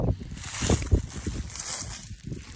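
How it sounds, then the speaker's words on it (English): Outdoor wind gusts buffet and rumble with a rustling wash of tree leaves, rising and falling unevenly and fairly loud. "listening to the wind and the rustle of the trees"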